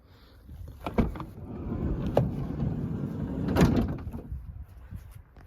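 Sliding side door of a 2018 Peugeot Expert standard-size camper van being opened, with a few distinct clunks and a rolling slide in between, close by and without talk.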